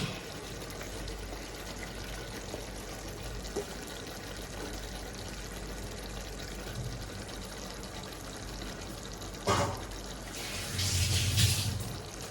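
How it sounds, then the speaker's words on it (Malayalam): Water is poured into a pot of village-style country chicken curry, a brief splashing gush near the end after a quiet stretch of faint kitchen background. "ചിക്കൻ വേവാനുള്ള വെള്ളം ഒഴിച്ച് നല്ലോണം വെള്ളം ഒഴിച്ചോളൂ"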